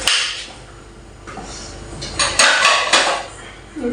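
Dishes, pots and cutlery clatter in a loaded kitchen sink at home, with a run of close, sharp clinks and knocks that grow busier toward the end, alone without talk.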